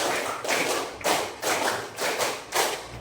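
A class of students claps in time, rhythmic group handclaps arriving in bursts of rapid clapping separated by short gaps, loud and close with no talking.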